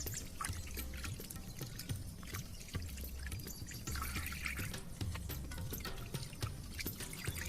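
Raw chicken being washed by hand in a bowl of water, with splashing, pouring and trickling water sounds running steadily throughout, close and moderately loud, without talk.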